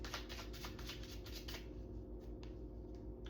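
A rapid burst of papery card riffling over a low steady hum, fading after a second or so into quieter occasional taps.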